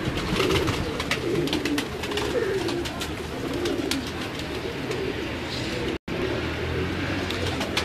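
Several pigeons coo continuously on a home rooftop, young birds and older seasoned flyers together, with soft layered calls and wing rustle under steady outdoor ambience and a brief dropout near the end.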